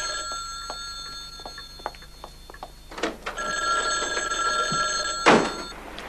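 A telephone bell rings in bursts of repeated trilling tones, fairly clear and close, with a few thumps and small movement noises between rings.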